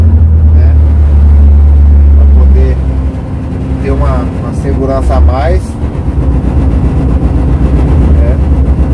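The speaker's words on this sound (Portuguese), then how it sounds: "Aqui, ó, ativei o freio motor, né?" Steady low rumble of a Volvo FH460 truck's diesel engine running with the engine brake engaged, a heavy continuous drone from the cab while someone talks over it.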